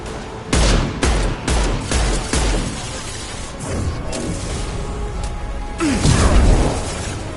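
Heavy gunfire in Mass Effect 2 on PS5 comes as loud, rapid bursts of shots and impacts, with several sharp volleys early on and a dense, sustained barrage near the end.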